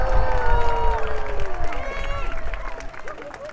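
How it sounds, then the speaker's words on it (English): A crowd at a knights' jousting event at Leeds Castle breaks into loud cheering, whoops and applause that swell at once and then tail off over a few seconds. "So give them a cheer."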